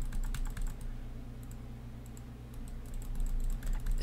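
Rapid computer mouse clicking during a Minecraft session: a dense run of quick, close clicks that clusters at the start and end over a steady low hum, with no speech.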